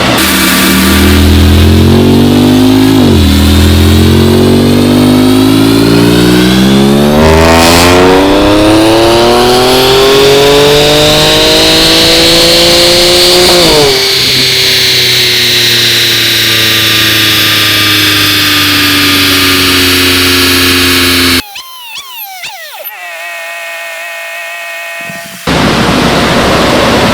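A boosted Infiniti Q50 engine on a dyno revs hard through rising sweeps, very loud and close, then drops to a lower drone before cutting out briefly and restarting.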